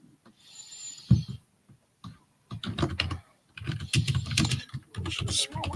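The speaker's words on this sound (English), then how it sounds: "You're about to hear me clacking on my keyboard." Clacking keystrokes on a computer keyboard come in bursts and runs of taps at close range, mixed with a person talking at times.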